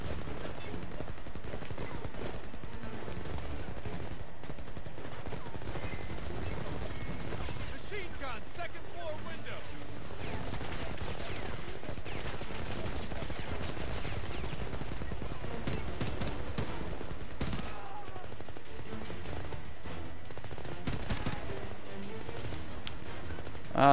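Video game gunfire in Homefront, rapid automatic bursts and shots in a steady war-zone din that runs the whole time, with a player's voice at times over the shooting.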